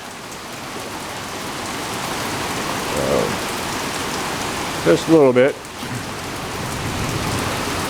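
Steady rain falls after a hail storm in northeast Texas, a constant close hiss of drops on surfaces throughout, with someone briefly speaking partway through.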